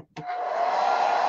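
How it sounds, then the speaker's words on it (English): A hair dryer switches on with a click and then blows a steady, loud whooshing hum at a craft table during a Mod Podge door hanger project. "Let's get the hairdryer."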